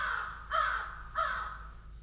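A raven's croaking caws used as a stage sound effect in a high school Macbeth production: three harsh, hoarse calls spaced about half a second apart, clear and fairly close with no talk.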